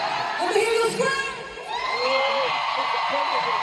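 A concert crowd screams and whoops continuously, with loud overlapping high-pitched yells and cheers filling the whole stretch.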